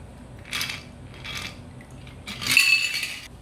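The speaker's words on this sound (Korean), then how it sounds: "캡을 열고 잔의 밑부분을 잡고 음료를 따라줍니다" Glassy clinks and rattling as a Kiss of Fire cocktail is poured from a shaker into a sugar-rimmed glass, with ice knocking in bursts and a brighter ringing clink near the end, close and quiet.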